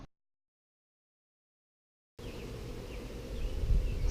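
Honey bees buzz around hives that are being closed up after a troubled colony split. A steady, dense hum starts abruptly after a couple of seconds of silence and grows slightly louder toward the end.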